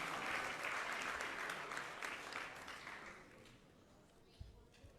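An audience at a temple fundraiser applauds donors, a dense round of clapping that holds steady and then fades out, leaving a couple of isolated thumps near the end.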